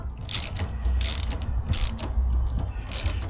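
Ratcheting clicks and grinding mechanism noise as the spare tire carrier cable on a Land Rover LR4/LR3 is loosened, coming in loud, close bursts of winding with brief pauses between turns.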